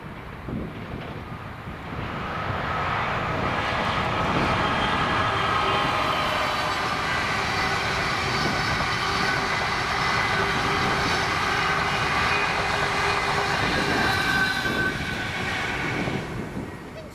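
Class 87 electric locomotive 87002 hauling the London Euston to Inverness train with 82139 at Ravenstruther in Scotland, passing as a loud, steady rumble and roar that builds after two seconds and holds to the end, with no talk.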